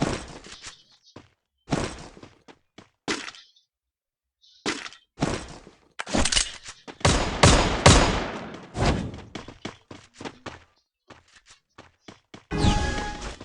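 Gunfire in a 4v4 shooter video game comes in sharp bursts and single loud cracks, separated by short silences, with rapid clustered volleys in the middle and no talk over it.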